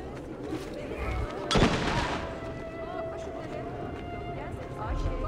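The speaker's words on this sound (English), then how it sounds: "a little arc right there, and then we throw the bomb" A thrown bomb explodes in Assassin's Creed Revelations as one sharp, fairly loud burst midway through. A constant busy game background with crowd and ambient noise runs throughout.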